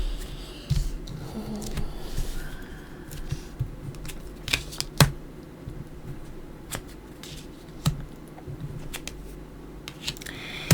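Tarot and oracle cards being spread out and turned over one at a time, with soft scattered flicks and sharper card snaps, close and quiet, and no talking.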